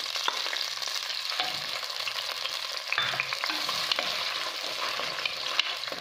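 Onions frying in ghee sizzle steadily in a pan for a chicken meatball tagine, a continuous close hiss with occasional stirring scrapes and no talking.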